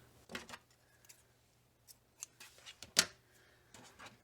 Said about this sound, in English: once your flap has 4 rows, then we're just going to cut and tie off our yarn